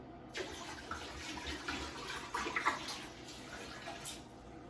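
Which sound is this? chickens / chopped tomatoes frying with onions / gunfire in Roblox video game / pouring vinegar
pouring vinegar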